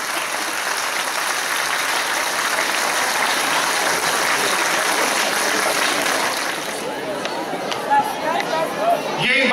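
A hall audience applauds a children's social awareness skit with loud, sustained clapping that thins out toward the end, with crowd voices and talk rising as it fades.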